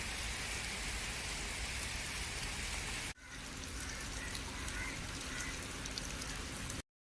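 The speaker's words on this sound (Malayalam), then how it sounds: "പക്ഷെ നല്ല മഴയാണ് നല്ല കിട്ടിലം മഴ" Heavy rain falls by a river in Kerala, a dense, steady hiss of drops that pauses abruptly for an instant midway, then continues just as strongly.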